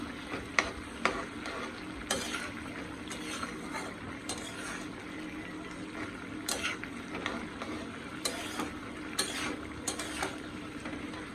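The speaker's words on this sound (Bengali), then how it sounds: "এই যে পনির টকবক টকবক করতেছে আমার পনির।" Homemade paneer simmering and bubbling in a pot while being stirred, a low bubbling hiss punctuated by sharp clinks and scrapes of a utensil against the pot, close and fairly quiet.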